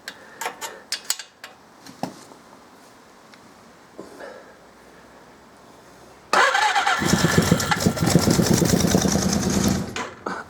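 A 1979 Suzuki GS 550 E motorcycle, laid up for five years and still on old fuel, cranks with a few ticking clicks before its engine catches and roars into a loud, steady idle for several seconds.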